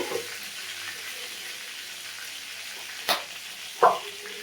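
Panch phoron seeds crackle in a little hot oil beside lightly fried shankar (stingray) fish, a steady low frying hiss with two brief sharp spits near the end.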